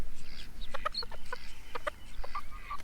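Several chickens clucking in short bursts on a small farm, with quick pecking-time calls overlapping close by, fairly steady and moderately loud, no talking.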